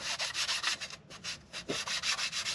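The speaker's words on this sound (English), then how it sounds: "Just rub your finger against it or something, and if you feel something," A finger rubs repeatedly across the surface of an oil pump cover from an H22 engine, giving soft, rhythmic scraping strokes, close and quiet, with a brief pause midway.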